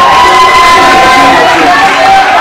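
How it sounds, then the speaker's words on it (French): At a ceremony in Kinshasa, a crowd roars with cheering and acclamation. The sound is loud and continuous, with steady tonal voices running through the dense noise. "l'acclamation"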